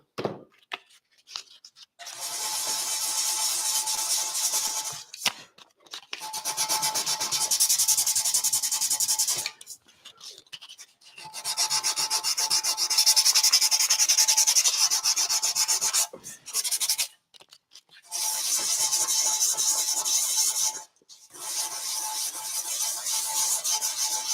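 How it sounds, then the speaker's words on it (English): Long strokes of hand sanding on wood rasp back and forth in steady rhythm, close up, broken by several short pauses. "Think about when you're sanding too, about how fast or how slow you're going."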